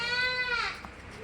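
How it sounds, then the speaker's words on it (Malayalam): A Malabari goat, a good milking doe at a livestock sale, gives one loud, close bleat that fades into quiet. "നല്ല പാലുള്ള ഒരു മലബാരി ആട്"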